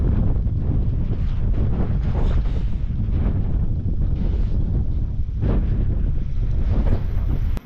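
Strong gusty wind on an exposed coast with choppy waves, buffeting the microphone in a steady heavy roar throughout, with no talking.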